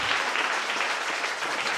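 Congregation applauding at a church gathering in Pointe-Noire, a dense, steady wash of clapping from many hands, close and fairly loud throughout.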